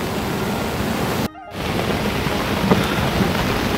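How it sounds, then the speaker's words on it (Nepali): Heavy rain pours steadily beside a swollen river formed where three streams meet, a dense broadband wash with a brief dropout near the middle and no thunder clearly standing out. "खोला अझै बढ्दैछ है, पानी लगातार परिरहेको अवस्था"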